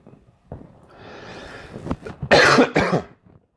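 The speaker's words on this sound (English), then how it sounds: "Now I'm coughing." A few harsh coughs and throat-clearing bursts close to the microphone, the loudest two coming back to back near the end.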